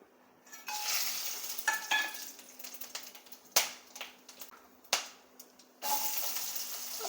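Whole spices, cinnamon, cloves, star anise, fennel and bay leaf, crackle and sizzle in hot oil for mutton curry, with sharp pops and bursts over a steady frying hiss, close up and fairly loud.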